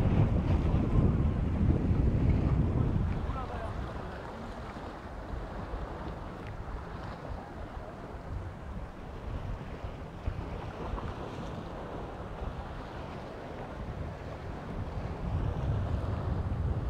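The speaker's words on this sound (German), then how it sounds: "hier das offene Meer." Wind roars against the microphone over a constant rush of open-sea waves at Evrenseki beach in mid-April, louder at first and then settling into a steady wash.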